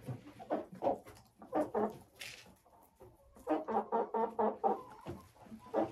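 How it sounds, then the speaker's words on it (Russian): A hen clucks close by in repeated short bursts, two clusters of rapid throaty notes separated by a quiet pause, loud and alone with no talking. "В гости забегает эта курочка попробовать что-то вкусненького."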